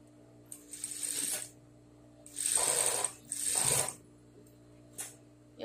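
A home sewing machine stitching fabric bias binding with a very small stitch length, heard in three close, whirring runs of rapid needle clatter with pauses between them, followed by a short final burst.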